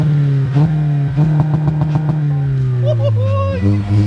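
A Toyota GR Corolla with a new aftermarket exhaust idles with a deep, loud burble, then revs in short bursts before the pitch climbs, close up, with excited voices talking over it.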